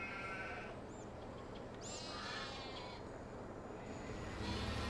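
Sheep bleating in the Farming Simulator video game, two or three short distant bleats over a steady, faint ambient farm background.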